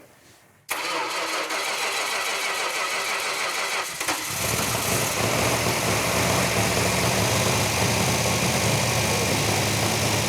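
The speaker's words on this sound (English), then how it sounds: "firing up that engine for the first time on the run stand" A 1971 Dodge Challenger R/T engine on a run stand cranks briefly, catches with a sudden burst, then settles into a loud, steady running roar that continues to the end.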